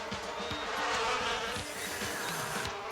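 Cartoon bees buzz in a dense, continuous drone that swells slightly and then fades, with no talking over it.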